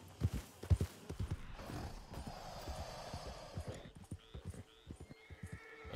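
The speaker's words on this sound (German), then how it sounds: "Das Pferd ist ganz nervös." Hooves clop in an uneven rhythm on hard ground, close by, with a nervous horse's whinny rising partway through amid shuffling movement, in the video game Red Dead Redemption 2.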